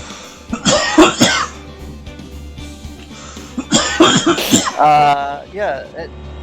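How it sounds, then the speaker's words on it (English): A person coughs hard in several loud close bursts and clears their throat, with speech mixed in around the coughing. "Sorry for the cough"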